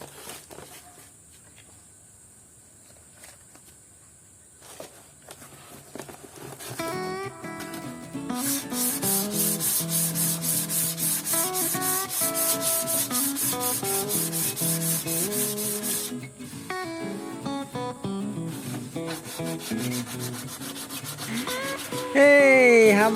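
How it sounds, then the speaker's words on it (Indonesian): Sandpaper rubs by hand against a wooden kite part in steady, rhythmic strokes, a dry rasping scrape that grows louder and faster midway, heard close with no talk. "Nah langsung aja lah kita amplas tangan aja lagi."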